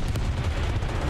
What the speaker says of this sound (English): See the machine gun shot.